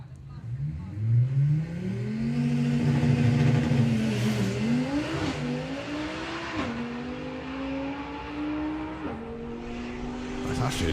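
An Audi RS3 on a drag racing run, engine roaring close then pulling away with rising revs and distinct gear changes, the pitch climbing and dropping between shifts as it fades slightly into the distance.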